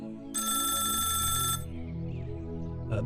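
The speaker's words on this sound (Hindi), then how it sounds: "तभी दरोगा कमलनाथ के टेबल पर फोन बजता है" An old-style telephone bell rings loudly once, a bright metallic trill lasting about a second, followed by a low steady hum of background music.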